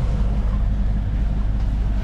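Sailboat motoring under engine on the Mediterranean with light wind and a long swell, a steady low engine drone with water wash running continuously and alone, near and loud.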